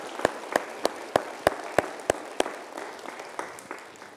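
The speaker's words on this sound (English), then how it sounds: "Let's give the court a round of applause one more time tonight." A school homecoming crowd at Raleigh Christian Academy applauds for the homecoming court, with about seven sharp, evenly spaced claps standing out near the front before the clapping fades into a softer, scattered patter.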